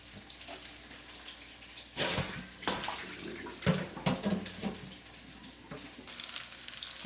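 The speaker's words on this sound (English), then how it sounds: "Okay, so we wash one more time here" Baby bok choy is swished and rinsed in water, with irregular splashing and sloshing bursts, close by over a quiet background.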